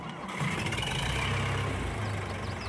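Low, steady rumble of an idling tractor engine in Farming Simulator 22, moderately loud and even from start to finish, with no talking.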